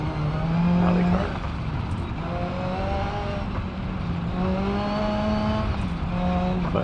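A simulated ETK two-door coupe rally car engine in BeamNG.drive revs hard and steadily, its whining tone climbing and dropping through repeated gear shifts, loud and close throughout.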